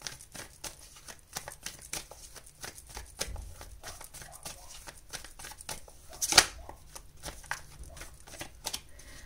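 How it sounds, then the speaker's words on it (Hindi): Tarot cards shuffled quickly by hand and then drawn, a fast run of soft riffling flicks and slaps, close and quiet, with one sharper snap partway through and no speech. "हम निकालेंगे आपके लिए 6 कार्ड्स।"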